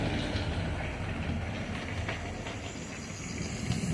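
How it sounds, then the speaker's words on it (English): Small 009 gauge model locomotives running over track points, a steady close rumble with faint clicking wheel noise, continuous and fairly quiet, without any talk. "So at least we know that the locos will successfully navigate the points."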